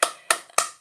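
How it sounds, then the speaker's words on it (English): Three sharp, evenly spaced claps ring out close by, each a crisp single hit with a quick decay, as an audience starts applauding. "Everybody give them a round of applause."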